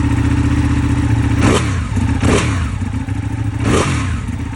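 A motorcycle with an aftermarket exhaust idles with a deep, throaty exhaust note, then three sharp throttle blips rev the engine up and back down.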